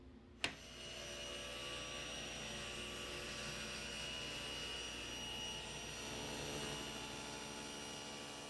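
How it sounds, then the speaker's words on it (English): A power saw tapering mahogany legs for a piano bench: a sharp click, then a steady, even whine that holds for several seconds, moderately loud and alone. "First, we cut a taper on the inside face of our legs."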